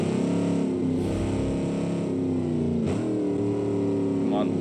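A car engine in the racing game Automation revs and changes pitch, rising and falling in sweeping glides as the car is driven through corners, heard at moderate level with a voice speaking over it.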